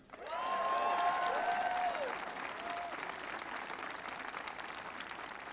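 Applause from a crowd at a political speech event, a dense wash of clapping that swells quickly and then holds steady at moderate level, with a few brief whistles or cheers near the start.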